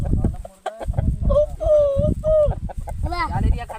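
A rooster clucks and calls repeatedly close by, with bursts of agitated fowl sounds and some overlapping voices in the background.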